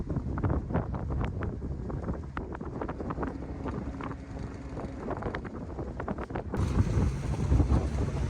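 Strong wind buffets the microphone aboard a sailboat heading out of harbour on a passage from Grand Cayman toward Panama, a steady loud roar with gusty surges and a sharp rise in the last seconds.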